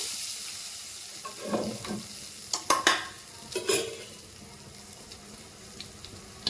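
Hot oil sizzles in short bursts as tempering spices drop in, with a few crackling spits and stirring sounds between quieter moments, while making moong dal with tender tamarind leaves.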